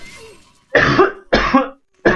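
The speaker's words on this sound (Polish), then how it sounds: "Masakra, ten kaszel to mnie rozwali tutaj." A person coughing three times in quick, harsh bursts, close and loud, separated by short silences, with faint voice-like sound before the first cough.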